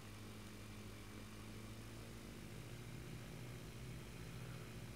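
An engine left to run on its own at full throttle, a steady, droning roar with a constant low throb. It sits at a distance and stays fairly quiet throughout, with no talking.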